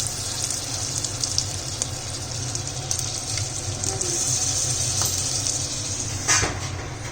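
Ginger garlic paste and green chilies fry in hot oil, giving a steady, fairly loud hiss and sizzle throughout with a few sharper crackles.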